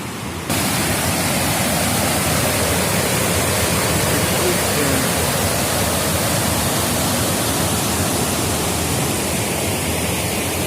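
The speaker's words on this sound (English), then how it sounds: "Even down there is same waterfall like this, which is made by human beings." Dwijiri waterfall, a man-made cascade at a huge dam, roars as a loud, steady broadband rush of falling water that fills the whole clip without a break, with no voices over it.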